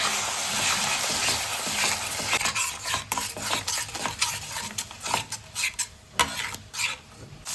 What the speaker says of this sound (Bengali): এবার দেখো হয়ে গেছে, টমেটোটা পেস্ট করে নিয়েছি, টমেটোটা দিয়ে দিলাম।